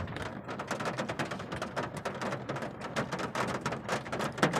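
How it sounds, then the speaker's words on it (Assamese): Heavy rain drums steadily on a parked car while the occupants wait it out on a campus during a Goru Bihu celebration, a dense continuous patter with sharper drop hits and no voices. "বাহিৰৰ ফালে চাওক, পূৰা বৰষুণ দি আছে"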